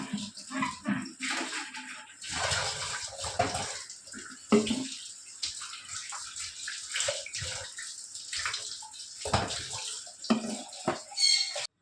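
Tap water runs and splashes continuously as glass bottles are rinsed and washed by hand in a home kitchen, with irregular gushes and clinks of the flow.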